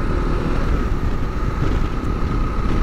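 Strong wind roars and buffets the microphone in a steady, loud rush while riding into a storm, with no speech.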